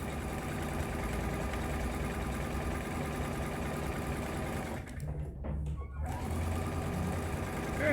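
Steady close whir of a sewing machine stitching a seam on a book pillow, running continuously before a brief pause and then resuming, with no voices over it.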